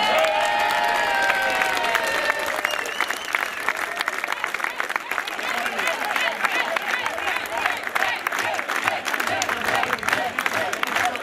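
Sustained applause from an outdoor crowd at a German village Frühschoppen festival, dense and steady with scattered claps and murmuring voices mixed in throughout.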